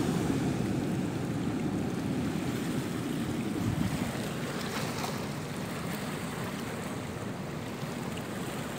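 Steady surf rumbles and washes continuously at moderate volume at a beach river mouth at Pantai Ayah, Indonesia, with a breezy hiss over the top and no voices.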